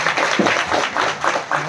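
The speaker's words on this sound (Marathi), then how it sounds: "सर्वांनी टाळी वाजवून स्वागत करा." A short burst of applause from the audience at a village felicitation ceremony in Chincholi, Shirala taluka, welcoming a speaker: steady, close hand-clapping lasting under two seconds.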